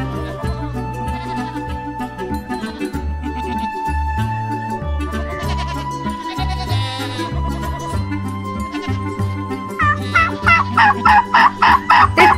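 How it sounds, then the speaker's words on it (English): Repeated gobbling calls from several birds, rapid warbling bursts that grow louder and more frantic toward the end, close and clear. "The sound they make is a gobble."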